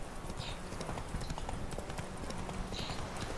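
A horse galloping in a video game, quick rhythmic hoofbeats at a steady pace over a faint, noisy background, short and continuous.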